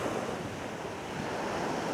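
Surf rolls in steadily on a Cornwall shore during shore fishing, a continuous broadband wash of breaking waves with some wind rumble, fairly close and with no one speaking.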